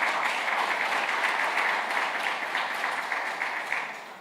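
Audience applause for an organizing team at the QS Africa 2025 forum, a steady dense clapping from a full room that holds evenly throughout and tapers slightly near the end, with no talk over it.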